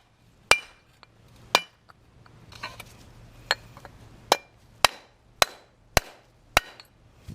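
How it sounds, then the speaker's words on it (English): Hammer blows knocking out the wheel hub on a 2014-2019 Toyota Yaris during a wheel bearing replacement, about nine sharp metallic strikes at uneven intervals, loud and close, with light clinking between them. "To get this hubs out, just knocking down the back here."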